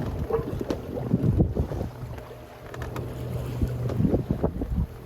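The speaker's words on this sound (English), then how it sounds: "So Arabella's been sailing herself to windward since our last tack." The sailboat Arabella beats to windward on her own, with hull and water noise washing past and steady wind buffeting the microphone. No voices are heard.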